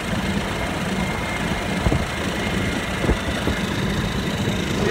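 A boat motor runs steadily at low, idling speed while moving slowly through a narrow, grassy channel, a continuous engine rumble with a couple of faint knocks and no voices.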